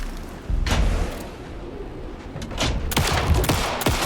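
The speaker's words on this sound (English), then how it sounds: "Anderson, hit him down with gunfire for me to get the light on him" Gunfire from the survival horror game Alan Wake 2 comes as loud, close bursts of shots, a few single cracks early, then a rapid volley of repeated blasts near the end.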